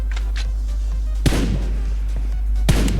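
Two loud, sharp gunshots ring out in a PUBG Mobile match, spaced about a second and a half apart, over a steady low hum of game ambience.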